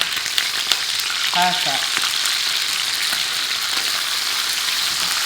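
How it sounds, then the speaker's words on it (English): Chicken wings sear in a hot frying pan, a steady broadband sizzle running throughout with a few brief clinks near the start and a short spoken word partway in. "I'm not browning it, I'm just searing it."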